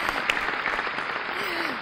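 Audience applause for a singer at a televised music show in Pakistan, a dense steady clatter of clapping filling the whole stretch, fairly loud and unbroken.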